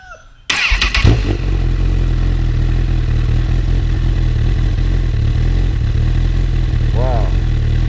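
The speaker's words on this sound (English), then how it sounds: "Let's go ahead and crank this bike up." A Honda CB1000R motorcycle fitted with a slip-on exhaust cranks and fires up close by, then settles into a loud, steady idle; a voice is briefly heard over the engine near the end.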